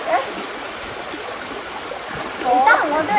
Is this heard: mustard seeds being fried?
no